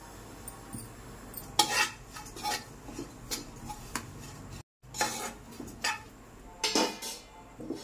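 Oats are dry-roasted and stirred in a pan on a stove, with sharp spoon clinks and scrapes against the metal coming in irregular bursts, close by with no talking.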